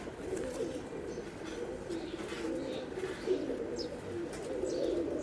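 A Pakistani Teddy pigeon coos in a soft, continuous low murmur that carries on quietly for the whole stretch, with no talking.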